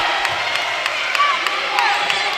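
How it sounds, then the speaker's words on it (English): Girls' or boys' high school basketball crowd at a Bush versus Katy game applauding and cheering a blocked shot, a steady wash of clapping and shouts with a few whoops rising above it. "Katy fans applauding a block shot"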